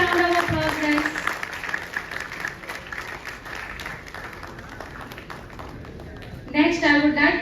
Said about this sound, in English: Please give them a big round of applause, guys